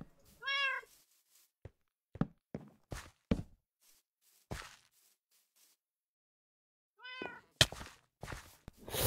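Cats in the Minecraft video game meow in two clear rising calls a few seconds apart, with soft in-game thuds and footsteps scattered between them and no talking.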